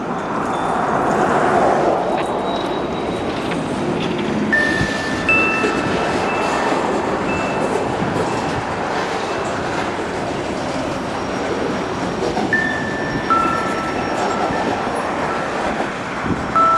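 A CSX manifest freight train rumbles past close by at Folkston, Georgia, with a continuous roar, rhythmic wheel clatter and occasional high metallic squeals.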